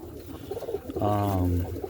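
Roller pigeons coo softly in a loft at night, one low, rolling coo rising clearly over a background of faint rustling and murmuring, close by and moderately loud.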